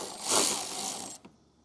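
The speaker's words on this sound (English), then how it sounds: "we'll use an 8mm socket to remove it" An 8mm socket ratchet backs out a screw during a hidden trailer hitch installation, giving a close, dense clicking buzz for about a second before it stops abruptly and is followed by one faint tap.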